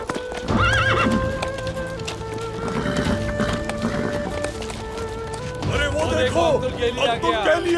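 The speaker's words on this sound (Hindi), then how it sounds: "हमारे सरदार का घोड़ा आ गया" A chieftain's horse arrives in a historical drama series: hooves clop steadily and loud neighs and whinnies ring out, with voices talking throughout.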